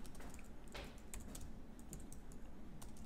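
Rapid typing on a MacBook keyboard, light quiet key clicks in an irregular flurry over a few seconds, close and soft with no voices.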